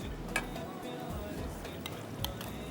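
Yogurt is added and stirred into a pot of methi matar pulao, a soft scraping stir over a low frying sizzle with a couple of light utensil taps, fairly quiet and without talking.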